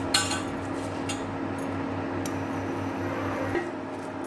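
Malabar spinach (bachali kura) frying in oil in a pan gives a steady, faint sizzle over a low background hum, with a couple of light clinks from utensils and no talking.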